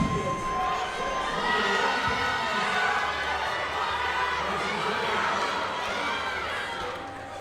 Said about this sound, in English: David has quite the cheering section out here today.